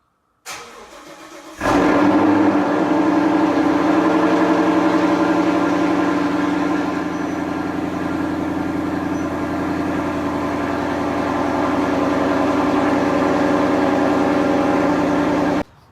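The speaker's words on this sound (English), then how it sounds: "We're gonna do a little quick cold start with the new exhaust" A car engine cranks and catches on a cold start, then settles into a loud, steady, deep exhaust rumble through a new Corsa Xtreme quad-tip exhaust, idling close by without letting up.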